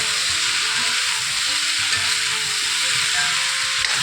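Mixed vegetable sabzi sizzles steadily in a pan while being stirred, a close, even frying hiss with soft scraping clinks underneath.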